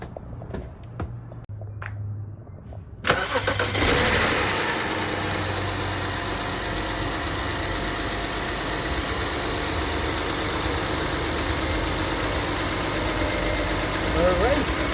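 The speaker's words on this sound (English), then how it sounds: "And let's try to run the engine." A 2008 BMW 535xi engine cranks and catches after a few quiet seconds, then settles into a steady, close idle that runs on evenly to the end.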